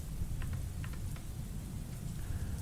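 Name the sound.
rain and storm in a video game scene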